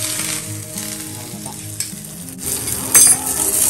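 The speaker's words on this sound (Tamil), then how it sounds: "கருவேப்பிலை இது மேலே போட்டுட்டு சுட சுட சுட அந்த எண்ணெயை அது மேலே விட்டுடலாம்" Hot tempering oil poured over curd rice fizzes into a loud, steady sizzle that swells briefly near the end, with faint scraping underneath and no voices.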